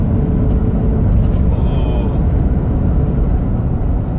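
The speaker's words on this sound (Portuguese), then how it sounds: "andando o carro tranquilamente, ó." A Mitsubishi Pajero engine running while the vehicle drives along, a loud steady low rumble throughout with someone talking over it.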